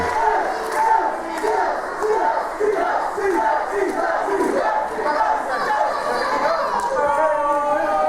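Crowd at a PWU professional wrestling event cheering and shouting around the ring, a loud, rippling roar of voices with bursts of yelling that swell and dip throughout.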